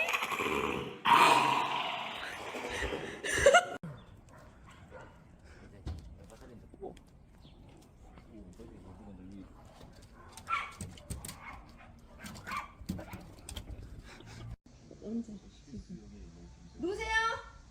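Puppy growling and barking, with a burst of loud yapping at the start, then quieter grumbles, whimpers and small barks under people's voices.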